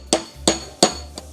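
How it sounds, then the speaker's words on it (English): Three sharp metallic hammer blows on a chisel resting on a half anvil during amateur blacksmithing, evenly spaced and ringing briefly, followed by a fainter fourth tap, close and loud. "I need 1 hand to hold this in place, 1 hand to hold the chisel, and 1 hand to hammer."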